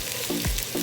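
Onion being stirred into pork adobo in a frying pan, giving a short steady sizzle with a scrape of the spatula partway through, close and moderately loud, no voices.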